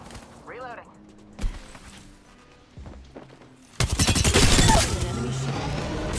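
Rapid automatic gunfire in the video game Apex Legends erupts loudly after a few quiet seconds of scattered shots and movement, with a voice briefly talking early on.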